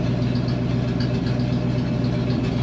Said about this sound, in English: All the exhaust is rotted off, so we're basically running open headers